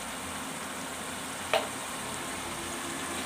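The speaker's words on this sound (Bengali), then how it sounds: "আদা বাটাটা আমি এবার তিনটে ভালো করে মিশিয়ে নিয়ে ভেজে নিব যাতে তেল থেকে ছেড়ে দেয় মশলাটা" Ginger paste frying in oil with onion and tomato, a steady close sizzle running throughout, broken by one brief clack of a spoon midway.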